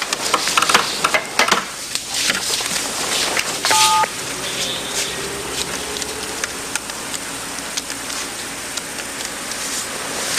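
A telephone number is dialed with a quick series of tones early on, followed by a long stretch of crackling, hissy background noise resembling rain.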